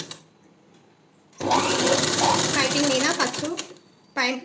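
Sewing machine with a normal presser foot stitching beside thread piping, a rapid steady mechanical whirr running for about three seconds, then a brief second burst, with a voice talking before it.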